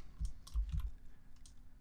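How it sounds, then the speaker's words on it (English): Keystrokes on a computer keyboard: a few quick, soft clicks in two short bursts over a quiet background hum, close and faint. "We can also hit tab on the keyboard and type in our movie title"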